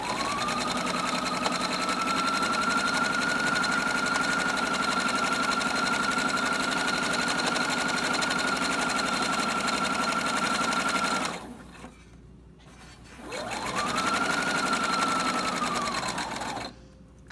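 A sewing machine stitches a fabric dust cover seam in a long, steady whirring run, stops briefly, then starts again for a shorter burst, close and clear.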